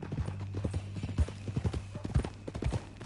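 Horse hooves clop in a steady, close rhythm in the Red Dead Redemption video game, repeated hoofbeats over a low steady background tone.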